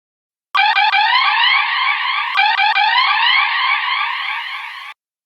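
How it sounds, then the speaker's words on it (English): A siren sound-effect sample plays on an SP-404MK2 sampler, a loud, clean wailing tone that starts abruptly, restarts once midway with a click, and cuts off cleanly after about four seconds. "Let's import one last sound,"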